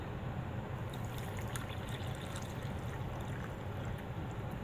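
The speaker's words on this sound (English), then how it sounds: "And we'll go ahead and we'll pour in our water." Water pours steadily into a U.S. military MRE pouch for a beef taco meal, a continuous close trickling splash lasting several seconds with no talking.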